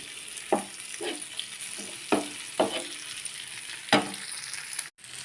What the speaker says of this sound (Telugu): ఫిష్ ఫ్రై రెడీ అయిపోతుంది.